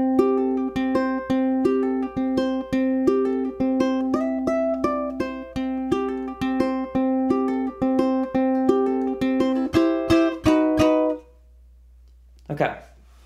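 A ukulele fingerpicks a bluegrass tune with hammer-ons and pull-offs, a steady run of clear plucked notes in a bouncy rhythm, close and alone, ending after about eleven seconds with a short rustle.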